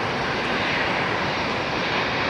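An airliner on descent passing overhead, a steady broad engine roar held at constant loudness throughout, with no voices.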